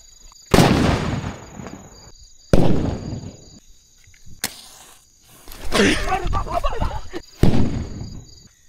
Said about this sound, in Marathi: तुम्ही आता हे फटाक्याचा आनंद बघा, फक्त आवाज कसा येतोय.